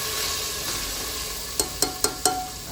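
Mint, ginger, garlic and green chili sizzle steadily in a hot pan as they are stirred, with four sharp spoon taps against the pan near the end.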